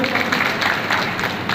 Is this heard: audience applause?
yes